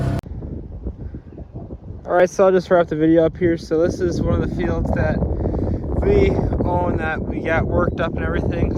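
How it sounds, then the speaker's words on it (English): Constant low wind buffeting rumbles against the microphone throughout while someone talks over it, outdoors on a field being prepared for planting corn. "So sorry about the wind, if you can hear that."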